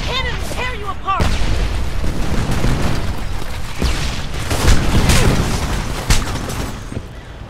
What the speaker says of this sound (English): That cannon will tear you apart!